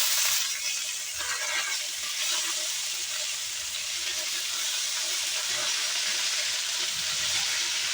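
Greens stir-fry in hot oil with garlic and onion already fried red, giving a loud, steady sizzling hiss that carries on without a break, with faint clinks of stirring underneath.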